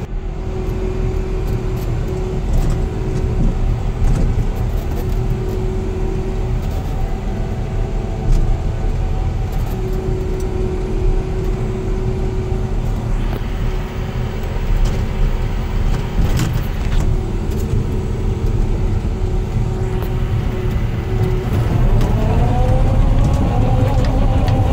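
Caterpillar D6 bulldozer plowing snow on an Idaho backcountry mountain road, a steady loud diesel rumble with clanking undertones and a rising engine whine near the end, continuous throughout.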